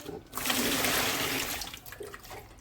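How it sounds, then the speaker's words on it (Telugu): A short, strong gush of water poured from a mug into thick rice starch, splashing steadily for a couple of seconds before tapering off. "ఒక మగ్గు పైన పోతానండి వాటర్"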